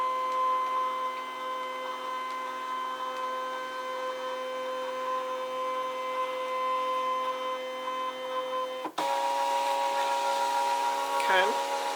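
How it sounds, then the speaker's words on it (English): A scanner machine capturing a 12x12 scrapbook layout gives a steady mechanical whine and hum that runs unbroken, then shifts to a brighter, louder tone after a brief click, with a faint chirp toward the end. "I'm going to hit the start button. I'm going to turn my machine sideways here. And it's going to start scanning this."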